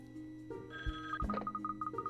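Telephone ringing inside Layton's Mystery Journey, a repeating electronic trill of quick bright pulses that starts partway through and keeps going over a soft game backdrop.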